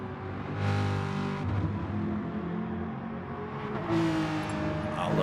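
A Corvette race car engine roars in a sim racing endurance event at Sainte Croix, revving in two rising surges with a droning tone between them, close and fairly loud.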